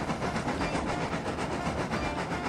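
A steam locomotive puffs along a siding on a model railway, with a steady, rhythmic chuffing at close range that continues without a break.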